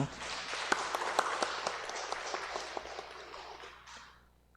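A church congregation at a Sunday service claps after a hymn: a burst of many hands clapping together, loud at first and then fading away over a few seconds.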